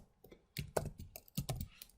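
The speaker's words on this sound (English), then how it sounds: "And I do that by typing define," Close, quiet clicks of keys on a computer keyboard come in two short bursts of several rapid presses with a brief pause between them, without talk.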